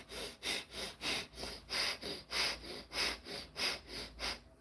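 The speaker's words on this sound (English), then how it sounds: "it's basically breathing from the belly or the chest with your mouth closed with one or both nostrils" Slow belly breathing through the nose with the mouth closed, about eight even in-and-out cycles of soft airy rushing, close and steady, with no talking.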